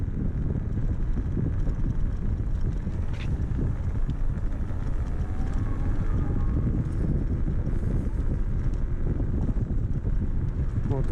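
An electric scooter rides in drive mode at about 25 km/h, with heavy wind buffeting on the microphone and a faint motor whine underneath.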